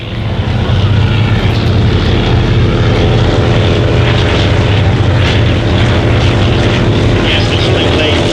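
A triplane's propeller engine roars overhead at the Shuttleworth Festival of Flight, a loud, steady, unbroken drone holding for several seconds.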